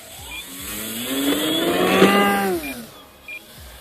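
An RC Pilatus Porter PC-6 model plane on a 5S 3300 mAh LiPo at full throttle: a rising, high electric motor whine swells loud as the plane passes, then fades away.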